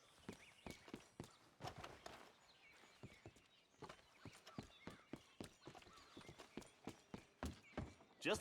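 Horse hooves clip-clop in steady, closely spaced beats as a horse walks in Red Dead Redemption 2, with a faint whinny near the end.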